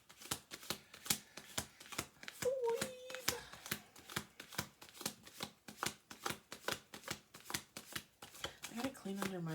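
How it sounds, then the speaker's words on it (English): A deck of playing cards is shuffled repeatedly at close range, giving a steady series of crisp riffling bursts at a regular rhythm, with a voice briefly audible between them. "I'm going to do 2 more shuffles."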